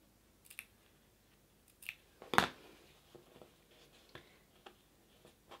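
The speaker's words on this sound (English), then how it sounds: "So now that I've got really close to a corner, I'll pin it right next to it and then I'll do my little snips" Scissors making small snips into fabric at the corner of a piped rectangular cushion cover, a few faint, crisp cuts with one sharper, louder snip in the middle, otherwise quiet.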